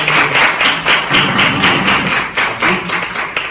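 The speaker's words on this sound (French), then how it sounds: "Nous avons des applaudissements à notre participants" Studio audience applause for a contestant on a French game show, loud close clapping in rhythmic, pulsing waves lasting several seconds without talk.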